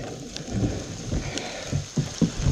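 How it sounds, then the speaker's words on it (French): Heavy rain keeps falling outdoors at a riverside bivouac spot, a steady close patter of drops with occasional louder hits on nearby surfaces and no talking. "il pleut toujours autant, c'est incroyable."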